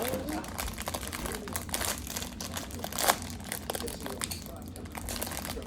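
Steady plastic crinkling and crumpling of cookie wrappers being opened continues for several seconds, close and busy, with voices murmuring faintly underneath.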